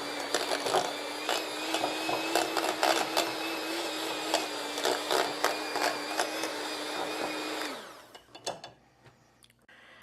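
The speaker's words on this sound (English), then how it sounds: "Add it into our wet mixture here. And then blend it some more." A blender whirs steadily through a wet batter mixture with eggs, a loud, even motor drone with small rattles that runs for about eight seconds, then cuts off and winds down into quiet.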